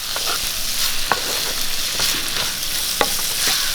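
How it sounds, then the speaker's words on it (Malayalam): Soya chunks with chopped tomato and salt sizzle loudly in a frying pan, a constant dense hiss broken by regular scrapes and knocks of the stirring spoon, close up with no voices. "നമുക്ക് ശകലം ഉപ്പും കൂടി ഇട്ട് ഇളക്കി കൊടുക്കും നല്ലപോലെ ഒന്ന് വലഞ്ഞ് വരട്ടെ"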